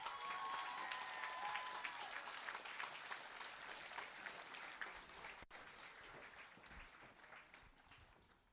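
A school promotion ceremony audience breaks into sustained applause, a dense wash of many hands clapping that gradually softens, with a brief break partway through before the clapping continues.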